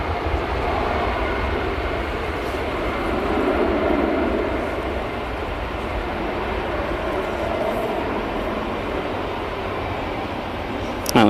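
An EasyJet jet departing Manchester Airport for Paris produces a continuous broad engine roar with gentle swells, steady and fairly near, ending in a brief louder burst.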